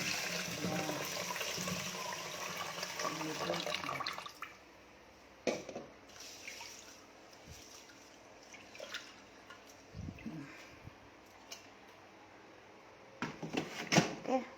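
Water pours into a pot of rinsed rice being readied for cooking, a steady rushing splash for about four seconds before fading to quiet handling noises and a few light knocks.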